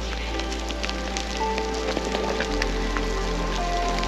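Hail and rain fall on a Banff backcountry trail near the Ink Pots, giving a steady close patter of scattered sharp ticks over a low, even rumble.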